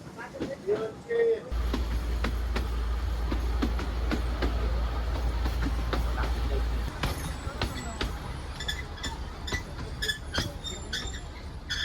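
A 110-year-old passenger train on the Bilimora to Waghai line rolls along the rails with a continuous rumble and rhythmic wheel clicks, heard from inside a general coach with people talking over it.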